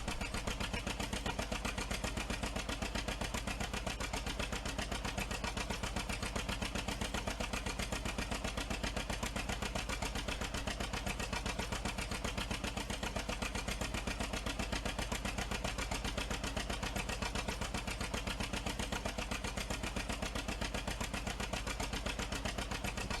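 John Deere 730 diesel tractor engine idling in a video game mod, a steady close rapid chugging with a constant low throb and even rhythm that holds unchanged throughout.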